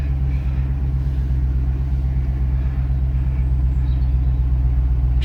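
A 1972 Range Rover drives along slowly, its engine giving a steady, loud, low rumble heard from inside the vehicle with no break.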